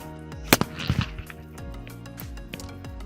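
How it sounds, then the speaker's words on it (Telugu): One sharp, loud brinjal bomb firecracker bang goes off inside a box close by, bursting the box, followed by a few scattered pops and rattles over a low background hum. "అందులో ఒక వంకాయ బాంబు వేసి దాన్ని ఇప్పుడు అంటించాను"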